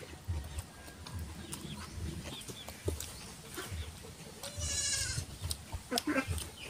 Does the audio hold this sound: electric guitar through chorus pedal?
no